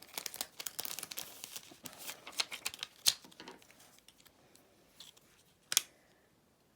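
Crisp scissor snips come in a quick irregular run, then scattered single cuts with pauses, close and fairly loud, with light paper rustling between them as stars are cut for a Christmas card.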